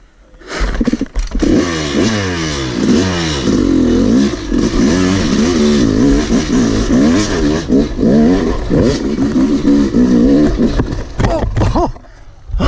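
A Yamaha YZ250 two-stroke dirt bike revs hard in the woods, close and loud, with rising and falling engine pitch through repeated throttle blips and gear changes over about twelve seconds.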